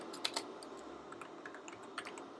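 Code being typed on a computer keyboard during a Java programming lesson, a quiet, uneven patter of light key clicks with a few sharper taps, close and alone with no talk.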